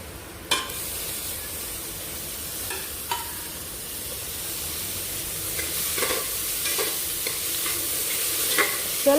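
Chopped dill leaves being stirred into upma in a pan, with a soft steady sizzle and scattered scraping clicks of the spoon against the pan, close and fairly quiet, no talking.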